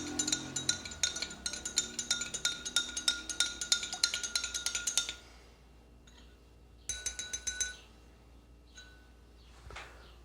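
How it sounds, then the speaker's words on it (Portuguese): A spoon clinks rapidly and repeatedly against a glass while stirring salt into water, a bright rhythmic tinkling for several seconds, a pause, then a shorter burst of stirring and a final faint tap. "Vou mexer de novo para dissolver melhor."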